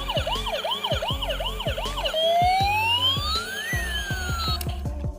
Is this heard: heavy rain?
no